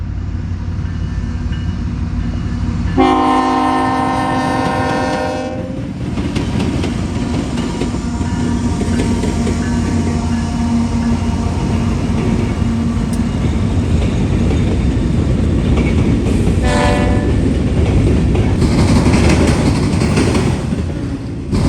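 A CSX freight train on the Toledo Sub approaching Leipzig rumbles loudly and steadily, with two bursts of its horn sounding through the continuous roar of passing rail cars.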